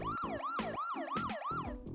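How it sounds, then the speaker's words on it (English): An ambulance siren in a children's vehicle cartoon, rising and falling in quick repeated wails about every quarter second, loud and close, with sharp percussive bursts mixed in. "Ambulance."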